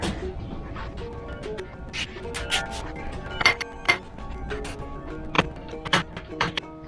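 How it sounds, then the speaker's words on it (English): Metal parts of a 1965 Chevy 283 engine being worked as a connecting rod cap is eased off, giving a series of close clinks and light taps in an irregular rhythm. "I'm going to ease this cap off of here. I might need a little tap rinse for it."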